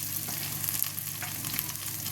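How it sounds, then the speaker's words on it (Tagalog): Fried chicken feet sizzle in a pan of sautéed onion, garlic and chili, a steady crackling fry that holds close and even throughout, with no voices. "Ito ay nagisa ako ng sibuyas bawang na may sili. Ilagay na natin tong prinitong chicken feet."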